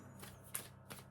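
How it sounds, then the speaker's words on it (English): Tarot cards being shuffled by hand: a steady soft papery riffle with two sharper slaps of the deck, close and quiet, with no talking. "let me get these cards shuffled"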